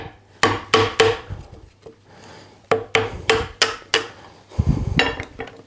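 A chisel pries apart a wooden joint glued with Cascamite powder resin wood glue, giving sharp cracking and creaking bursts in irregular clusters with brief pauses, close and loud.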